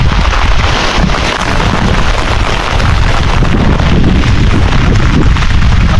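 Strong wind blowing hard ahead of a typhoon in rural Bicol, a loud, steady broadband roar with continuous gusting buffeting across the whole stretch and no voices.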